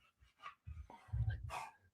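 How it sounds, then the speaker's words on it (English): A dog gives a few short, close barks and yips in quick succession, with some panting and whimpering between them, fairly quiet indoors. "It's a fucking dog."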